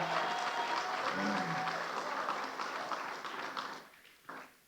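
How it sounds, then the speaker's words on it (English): Audience applause at a law class, a steady dense clapping that fills most of the clip, then thins and fades out near the end. "please give Brother Rawchaa a round of applause"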